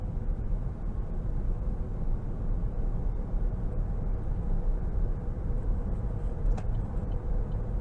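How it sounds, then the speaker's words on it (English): A 2013 Chevrolet Volt electric car driving on the road, with low, steady road and cabin rumble and only a faint motor whine above it, no voices. "when you give this just a little bit of throttle, you get a slight whirl from the electric motor"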